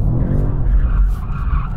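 A 2021 BMW M5 drifting in rear-wheel-drive mode, its tires skidding in a loud, continuous close squeal with engine roar underneath.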